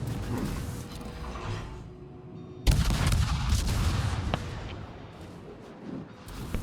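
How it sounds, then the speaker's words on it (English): Cruiser naval guns in a video game fire armor-piercing shells, giving a sudden loud boom partway through followed by a rumbling, crackling decay over a low, continuous background drone. "I'm shooting AP back, but I have a nice broadside to shoot at"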